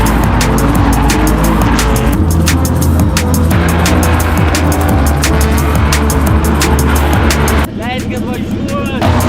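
A car drifts sideways during drift training at Kopūstėliai, its engine roaring loudly as the tires squeal continuously, with voices heard over the din.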